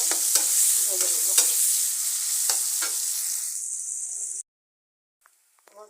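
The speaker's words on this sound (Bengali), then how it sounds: "একটা পেঁয়াজ এগুলোকে হালকা না একটু লাল লাল বাদামি বাদামি করে ভেজে নেব।" Sliced onions fry in a pan for an egg bhuna, with a loud hissing sizzle and a few spatula scrapes before the sound cuts off abruptly, leaving near silence and faint clinks.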